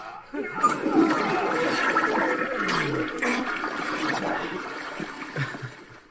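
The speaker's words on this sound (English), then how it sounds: "How about courtesy flush over there?" A toilet flushing nearby, a loud gushing rush of water that swirls and gurgles for several seconds before tapering off into trickling.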